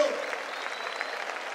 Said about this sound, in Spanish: Un fuerte aplauso para todos los competidores, fuerte aplauso.